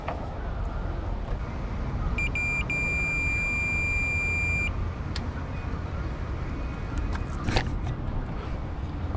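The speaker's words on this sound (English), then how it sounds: "I'm gonna set you guys down on the multimeter just so you guys can hear it if it connects." A multimeter gives a few short continuity beeps, then a steady tone lasting about two seconds while a terminal connection on a 1993 Honda Civic Si hatchback is probed, over a noisy garage background.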